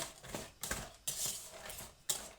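A wire whisk works cookies around in a bowl for a broken-glass jelly dessert, making soft scraping swishes and clinks in uneven strokes, fairly close and quiet, with no talking.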